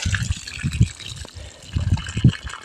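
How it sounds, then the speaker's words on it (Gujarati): Rainwater from days of unseasonal rain draining off a plastic sheet, a close gushing, splashing pour in two bursts, with a person speaking briefly nearby. "જો પાણી નીકળે, જોઈ લ્યો"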